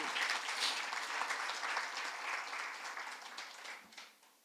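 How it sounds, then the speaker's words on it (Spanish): A church congregation applauds during a sermon, a steady, fairly soft patter of many hands that tapers off toward the end. "Dale un aplauso al Señor"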